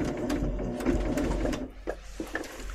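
A sewing machine stitching a quilt block runs in a steady, fast whirring buzz, then stops and gives way to a few light clicks and handling sounds near the end.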